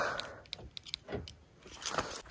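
Car keys jangle and clink in a few quick, light bursts close by, faint and without talking.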